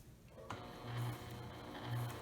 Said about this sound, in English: I'm going to start to sew.